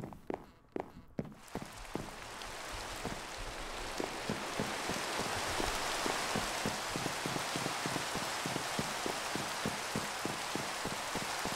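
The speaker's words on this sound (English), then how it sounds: "Nope, you can still see the rain over there." Steady video game rain hissing in the background, joined by a regular run of footsteps tapping along at a quick, even pace, fairly close.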